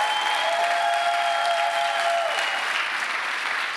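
A church congregation applauds during a sermon, dense and loud across the whole span, with a steady musical tone ringing underneath for much of it.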